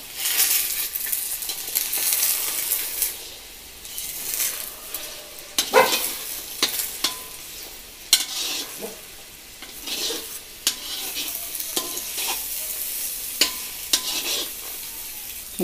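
Six eggs sizzle in a frying pan for chicken fried rice while a spoon stirs and scrapes through them, with intermittent clinks of metal against the pan over the steady frying hiss.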